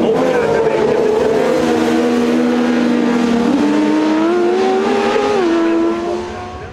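Rallycross cars in a Chevaux Cross race at Eurocircuit Valkenswaard roar loudly together, engines rising and shifting pitch as they accelerate, then fading slightly toward the end.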